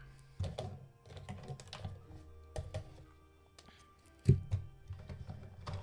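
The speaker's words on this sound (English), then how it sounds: "I'll have to hand shuffle them" Small game cards for the board game Viticulture are hand shuffled, giving soft, irregular tapping and riffling clicks in scattered bursts with one louder knock, close and quiet.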